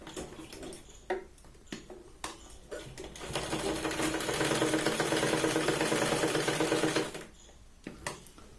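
Sewing machine stitches the shoulder seam of a Punjabi top in one fast, steady burst of about four seconds, with quiet handling noises before and after.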